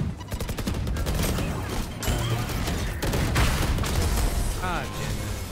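Valorant gameplay: the Raze rocket launcher explosion sounds amid loud, dense bursts of gunfire and booms across the round, with repeated sharp impacts and continuous action noise.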